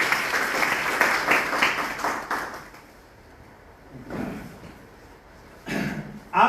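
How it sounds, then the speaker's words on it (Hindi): An audience claps for a guest at a seminar, a loud burst of applause that fades after a few seconds, followed by scattered short rustles and thumps in a quieter room. "सर के लिए जोरदार ताली होनी चाहिए"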